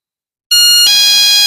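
A motion-sensor anti-theft alarm for guarding cattle goes off abruptly, holding a loud, steady high-pitched electronic tone for about a second with a slight shift midway, close to the device.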